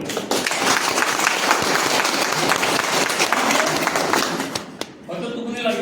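An indoor audience at a training program claps loudly and steadily for several seconds, a dense crackle of many hands that fades out before a voice begins speaking.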